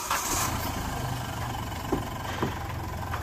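Hyundai Xcent diesel engine with a low-pickup fault idling nearby, a steady low rumble with a couple of small revving bumps, heard without any talk.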